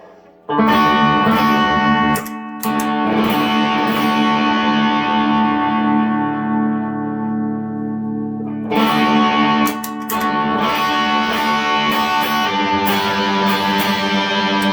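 An electric guitar through a D&M Drive distortion pedal rings out in loud sustained chords, one held and decaying before a burst of choppy strummed playing resumes.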